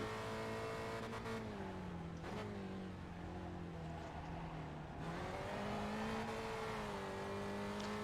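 A Spec Racer Ford race car at Okayama in iRacing drones along at steady revs, the engine note dipping and rising as the rear tires slip over a curb, continuous and fairly faint.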